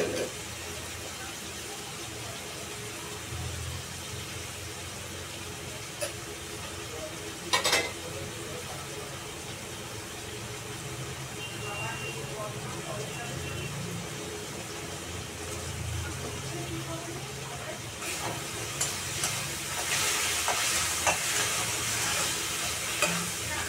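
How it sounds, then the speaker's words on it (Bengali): A soft, continuous sizzle of spices frying with onion, chilli, cumin, ginger paste and turmeric, with occasional stirring scrapes and clinks of a utensil against the pan; faint and steady, swelling slightly toward the end. "দেখুন মশলাটা ভাজা হয়ে গেছে, পেঁয়াজ মশলা।"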